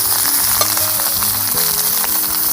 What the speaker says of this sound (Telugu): వంకాయలు ఎలా తిప్పుకుంటే అన్ని పక్కలు ఫ్రై అయిపోతాయి. ఐరన్ కడాయిలో చేసుకుంటేనే బాగుంటుంది